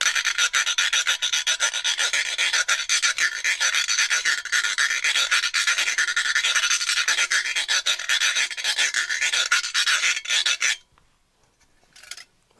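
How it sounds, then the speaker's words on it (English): A handheld cheese grater scraped as a percussion instrument, giving a continuous bright rasping scratch with steady rhythmic strokes, close and loud, then stopping abruptly before a brief faint scrape. "we can also play on our cheese grater"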